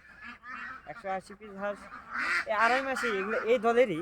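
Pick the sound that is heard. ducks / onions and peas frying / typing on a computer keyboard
ducks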